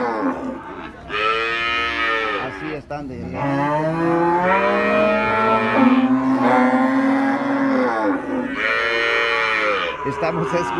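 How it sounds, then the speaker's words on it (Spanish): Calves at a livestock market bawl loudly and repeatedly, long drawn-out moos overlapping one another close by, with hardly a pause between calls. "no se escucha por el ruido de los terneros"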